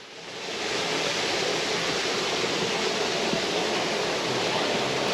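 River water overflowing at an old sawmill wheel, a dense, steady rushing roar like a small waterfall, close and constant after a quick swell at the start, with no voices.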